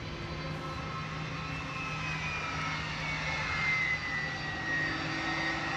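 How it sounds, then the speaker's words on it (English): An Airbus A300 jet departs London Luton Airport in wet, windy weather, heard as a steady, broad engine roar with a slowly shifting whine that holds at an even loudness throughout. "Off to Milan is the A300 that is departing"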